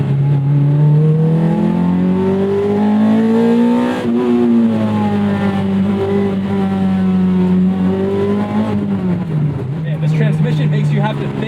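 A 2001 Toyota MR2 Spyder with a swapped-in 2ZZ engine revs loudly and continuously up through the gears, its engine note climbing and dipping with shifts, close and steady throughout.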